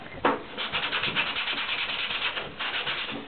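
Sandpaper roughs up the slick side of a leather welt for a knife sheath, making close, steady back-and-forth scratching strokes for about three seconds with a sharper first stroke.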